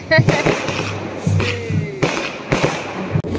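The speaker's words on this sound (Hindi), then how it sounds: "पीछे पटाखे फोड़े जा रहे हैं वहाँ पे यहाँ पटाखे फोड़ गए" Firecrackers burst at a groom's welcome during a mountain destination wedding, with sharp cracks and thumps repeating at irregular intervals over a noisy crowd and chatter.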